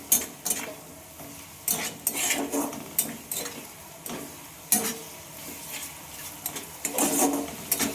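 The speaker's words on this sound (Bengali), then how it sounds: "এইভাবে মশলাটাকে খুব সুন্দরভাবে কষিয়ে নিতে হবে" A spatula scrapes and stirs spice paste as it sautés in a pan for an egg dish cooked at home, with repeated metallic clinks and scrapes in an irregular rhythm over a soft, steady sizzle.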